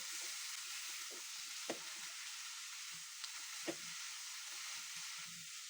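Mixed vegetables with coriander and cumin powder frying in a pan, a faint steady hiss with a few soft knocks of stirring.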